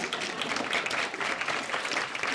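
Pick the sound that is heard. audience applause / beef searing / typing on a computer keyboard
audience applause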